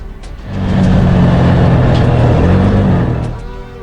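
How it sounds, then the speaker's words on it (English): A Zhiguli car drives past close by, its engine rising to a loud steady rumble for a few seconds before fading away. "Zhigul, a customary Russian vehicle."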